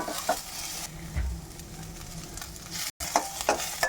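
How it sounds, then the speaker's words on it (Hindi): Sweet corn sautéing in a pan, a soft steady sizzle with a few utensil taps and stirring scrapes, close and fairly quiet, with a brief dropout near the end and no talk. "अब स्वीट कॉर्न डाल देंगे और स्वीट कॉर्न को अच्छे से सौटे करेंगे ताकि इसका कच्चापन निकल जाए"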